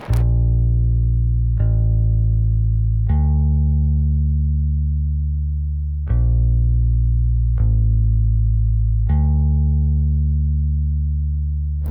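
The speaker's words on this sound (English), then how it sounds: "I went in with the bass VST and I laid down this super basic pattern" A basic bass line from a software bass instrument: deep, sustained synthetic notes in a slow repeating pattern, each held for about a second and a half, loud and alone.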